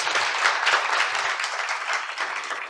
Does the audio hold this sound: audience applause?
yes